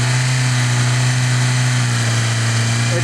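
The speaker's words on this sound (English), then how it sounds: "Now if I rev it," A Toyota Corolla engine running with a steady, loud mid-pitched drone and a strong low hum, held at a raised, even speed throughout with no talking.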